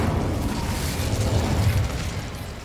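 Spell explosions in the Hogwarts Legacy video game, a continuous heavy rumbling boom with crackling bursts, loud and low, filling the whole stretch without speech.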